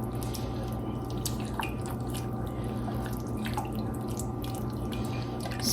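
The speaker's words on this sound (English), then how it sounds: "Just continue to get that liquid out because there is quite a bit." Liquid drains from cooked Honeycrisp apples being made into no-sugar-added homemade applesauce, with faint scattered drips and trickles over a steady background hum.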